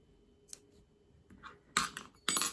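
Scissors snip through crochet yarn, a few short, crisp cuts close by in a quiet room, the last two louder and more distinct.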